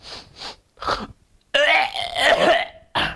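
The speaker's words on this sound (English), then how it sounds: "So the hawking is accompanied with the cough." A person coughs a few short times, then gives a long, harsh, rasping hawk deep in the throat, followed by another brief cough.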